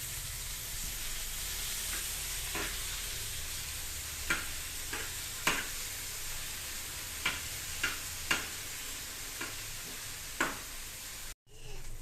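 Onion and tomato frying in a pan: a steady sizzling hiss broken by a dozen or so scraping stirs at irregular intervals, with no talking.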